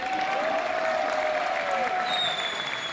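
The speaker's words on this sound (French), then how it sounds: "je vous demande un tonnerre d'applaudissements pour les Wellis, Ezer et nos joueurs" Applause for players at the close of a Hearthstone tournament at the Gamers Assembly, a steady dense wash of clapping held at even loudness throughout, with a thin sustained tone running through it.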